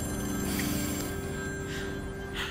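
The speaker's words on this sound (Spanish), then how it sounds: "¿Me da permiso de contestar al teléfono?" A telephone bell rings steadily indoors in a Colombian home, its tone sustained and moderately loud across the whole moment with no voices present.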